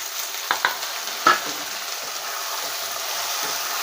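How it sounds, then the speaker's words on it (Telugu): Tomatoes frying in oil in a pan for a village-style egg curry, with a steady soft sizzle throughout and a few brief stirring clicks near the start. "టమాటాలు వేసిన తర్వాత ఇప్పుడు నూనె తాగేస్తాను చెప్పింది గాయత్రి."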